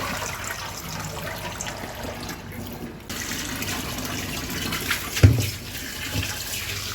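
Water runs steadily from a tap as fish is washed, with a brief splash and clunk partway through as the fish is handled under the stream.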